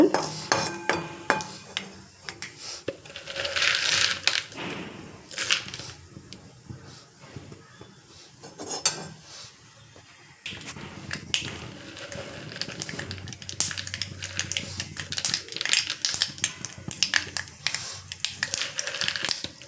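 Mustard seeds crackle and pop in hot oil as a South Indian tempering is made, a close, busy spattering with intermittent clinks of a utensil and brief talk.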